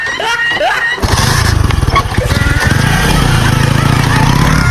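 A motorcycle engine runs close by, a loud rapid chugging putter that starts abruptly after a moment of other sound and continues steadily with some shifts in tone.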